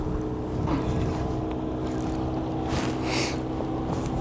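A gust of wind buffeting a small fishing boat on the Mississippi River, steady rushing and rumbling noise that swells briefly louder near the end, no voices.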